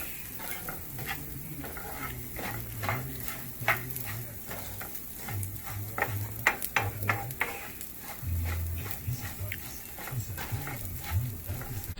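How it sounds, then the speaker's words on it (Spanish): Rice for Mexican rice fries in a pan while a spoon stirs it, with a steady sizzle under repeated scraping and scooping strokes close up. "Y seguimos moviendo el arroz para que esté todo parejo."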